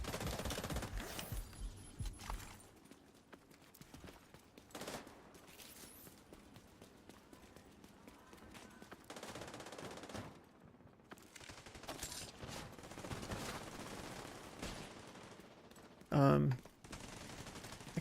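Gunfire from The Division 2, with shotgun blasts among bursts of automatic fire, rattles on through most of the span under intermittent talk, with a sharp loud blast near the end.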